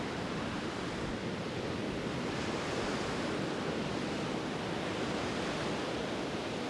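Ocean surf on the beach at Padangbai, Bali, rolls as a continuous, full wash of broadband noise with no distinct individual breaks. A little wind rush sits in the mix.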